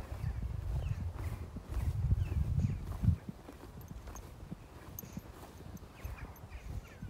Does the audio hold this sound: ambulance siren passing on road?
no